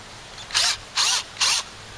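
A battery drill pre-drills a hole in wood in three short, loud whirring bursts, each about a quarter second long, separated by brief pauses.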